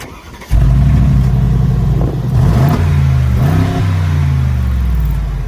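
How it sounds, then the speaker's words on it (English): A Mercedes-AMG G63 SUV with side-exiting quad exhausts starts up loudly and revs repeatedly, its deep engine note rising and falling in several close blips before settling to a throbbing idle. "We have quad exhaust on this baby, and it's 2 on this side, they're on the side, and 2 on the other side."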